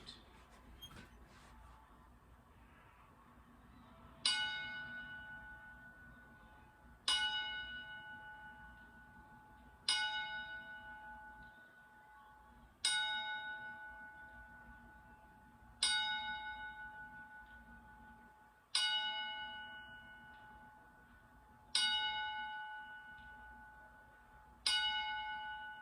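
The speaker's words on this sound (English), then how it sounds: "Please join us for a moment of silence in our traditional 10-bell salute." A bell rings a ten-bell salute at a wrestling tribute show, single clear strikes spaced about three seconds apart, each ringing out and decaying in a quiet room before the next.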